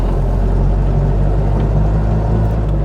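A Zastava 750 Fićo engine, faulty and struggling to run in a heavy storm, gives a loud, steady low rumble that drones on without a break, heard from inside the car.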